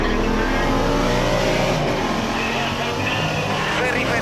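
A Mitsubishi Pajero's diesel engine roars steadily and loudly during off-road driving, holding a dense, continuous rumble with no break from start to finish.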